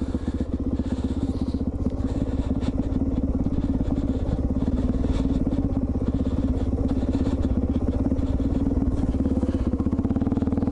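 A Suzuki DR-Z400E dual sport motorcycle chugs along in first gear at low revs, a steady, close, rapid thumping engine note with a gritty clatter that holds unchanged throughout.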